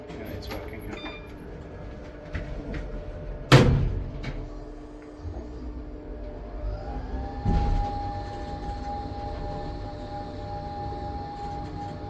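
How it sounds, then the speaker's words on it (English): The main door of an old Schindler traction elevator in a Helsinki building operates, with a sharp mechanical clunk, a later rumbling slide, and a steady motor hum that rises and holds near the end. "I'll press the main door button and it's working here."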